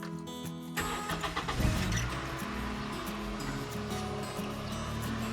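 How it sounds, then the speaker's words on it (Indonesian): A car with a suspected battery problem is started: the starter cranks briefly and the engine catches, then settles into a steady idle that continues close by, with no talking. "saya akan starter, kita lihat, kita di starter."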